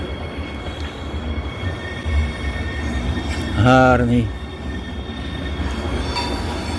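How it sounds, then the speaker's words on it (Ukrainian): A passing long-distance passenger train, not a commuter electric, rumbles steadily near a station by a cathedral in Cologne, with a brief wheel squeal in the middle; a person speaks briefly over it. "це, напевно, не електричка, а поїзд"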